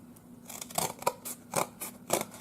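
Scissors trim an excess flap from a book spine, five or six crisp close snips in an uneven rhythm over a quiet low hum.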